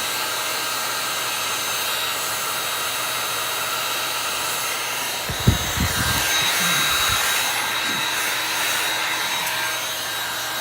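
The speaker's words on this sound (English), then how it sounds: "I think I'm going to sand it a little bit just to kind of rough that wood up" Someone sands a carved wooden tree, producing a steady, close abrasive whir that runs without a break. A brief knock sounds midway, followed by a few rougher strokes.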